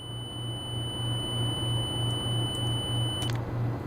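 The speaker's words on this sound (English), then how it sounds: "Very angry alarm." A steady high electronic alarm tone sounds in the Apollo 11 lunar module during powerup, continuous and piercing, with a pulsing low hum and brief clicks beneath it.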